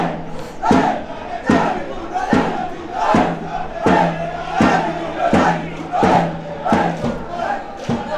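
Roccasecca football supporters at a match against Suio TC Minturno chant in unison, a loud crowd with a steady rhythmic pulse of shouted beats roughly every 0.8 seconds, continuous and close.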